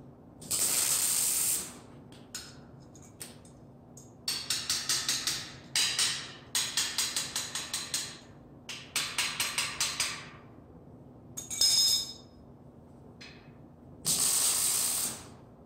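Tack welding on steel balusters for a curved railing: repeated short bursts of crackling, hissing arc noise separated by silent gaps, fairly close and loud, with no talk.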